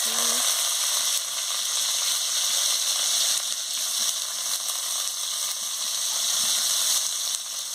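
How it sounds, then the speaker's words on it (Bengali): Chopped onions hit hot oil in a pan and sizzle with a loud, continuous hiss that settles into steady frying, for a banana flower curry. "তেল গরম হয়ে গেছে আমি পেঁয়াজ কুচিটা দিয়ে দিচ্ছি"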